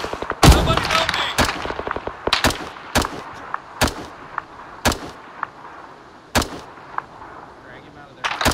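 Arma 3 battlefield with a mortar firing among sharp, cracking reports, a dozen or so loud impulsive shots at irregular intervals, some close and punchy, others thinner and more distant, with low background noise between.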